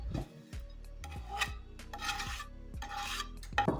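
A spoon scrapes and rubs repeatedly against a bowl while cottage cheese with herbs is mixed, in rhythmic strokes up close.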